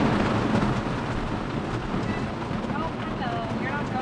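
Rain patters steadily on the roof of a camper van parked on a rainy day, a constant dense wash of sound heard from inside, close and even, with no talking.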